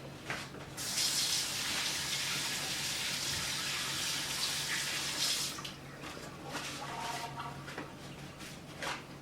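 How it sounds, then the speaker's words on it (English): Hands washed under a running kitchen tap, a steady close splash of water lasting several seconds, then softer intermittent trickles and rinsing as the flow eases. "Let me wash my hands."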